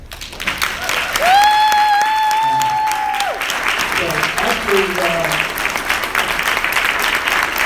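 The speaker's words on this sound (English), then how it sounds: "give me a round of applause" Applause from a conference and award show audience fills the room as a dense wash of clapping, with someone speaking over it and a sustained tone briefly rising above the crowd.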